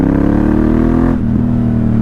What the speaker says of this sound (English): As you can tell, she sounds absolutely glorious with this Remus exhaust.